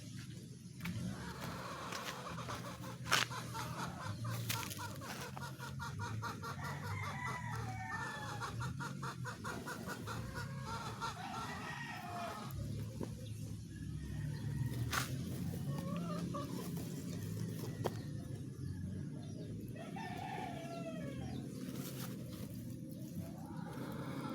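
Chickens cluck and a rooster crows in a backyard, the calls recurring over a steady outdoor din with a passing car.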